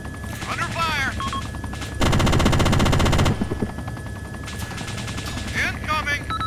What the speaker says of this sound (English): Oh, we actually getting shot. Enemy fire.